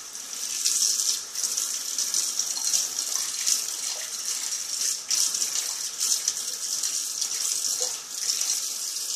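Tap water runs into a basin for hand-washing laundry, a continuous hissing gush with slight rattling surges, close and steady for the whole span, with no talking.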